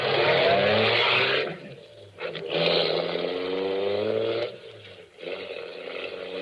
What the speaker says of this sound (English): I drove back to the garage, had Dan fill the tank